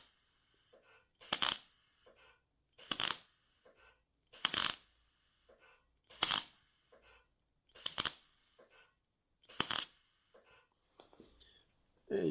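Welding on a rusty VW Beetle door: eight short, sharp crackling bursts at an even pace, each lasting under a second with near silence and faint ticks between.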